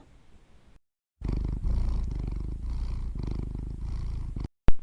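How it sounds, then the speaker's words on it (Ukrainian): A cat purrs loudly and close up, a low rhythmic rumble pulsing in steady breaths, after a short quiet start. "Так, ми говорили про кішку."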